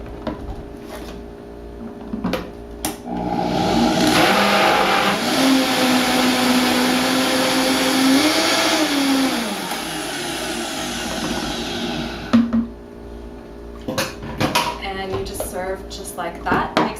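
A blender whirs through a thick soy-based chocolate smoothie, running steadily for several seconds with a rising and falling motor pitch, followed by clinks and handling sounds.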